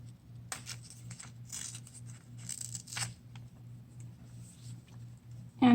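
Paper napkin torn along a ruler in a few short, crisp rips separated by quiet pauses, close and soft, over a faint low hum.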